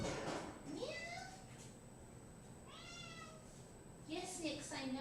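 A cat meows several times in a workshop, with drawn-out rising and falling cries spaced across the clip, fairly close, while a person speaks briefly alongside.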